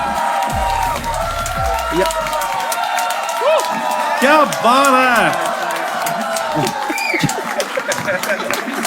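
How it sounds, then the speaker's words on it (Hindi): A stand-up comedy crowd applauds and cheers loudly and continuously, with whoops and whistles rising over the clapping while a voice calls out briefly. "तो शुरू करते हैं तालियों के साथ।"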